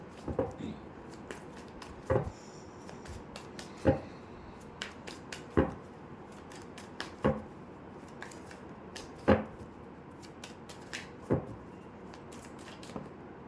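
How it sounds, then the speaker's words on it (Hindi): Tarot cards are shuffled by hand, with crisp, separate flicks and snaps at roughly even intervals over a quiet background and no talking. "तब तक मैं कार्ड शफल करती हूँ।"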